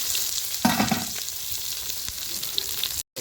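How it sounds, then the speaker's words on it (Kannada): Onions hit hot oil with mustard seeds for a village-style raw jackfruit sambar, giving a loud, steady hiss and crackle with a stirring rustle. The sound breaks off in a brief dropout near the end. "ಈರುಳ್ಳಿ ಹಾಕೋತಾಯಿದ್ದೀನಿ."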